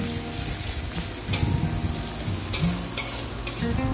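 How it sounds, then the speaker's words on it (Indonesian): Shallots, garlic and ginger sautéing in a pan for sweet and sour gourami, a close, steady sizzle broken by repeated spatula scrapes and knocks, with no speech. "Masukin bawang merah, bawang putih, dan jahenya. Tumis sampai dia bau harum."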